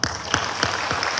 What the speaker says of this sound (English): let's give a round of applause for the compact